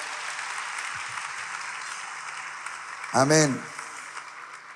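A church congregation applauds during a service: a steady wash of distant clapping runs throughout, and a single voice briefly speaks over it near the end.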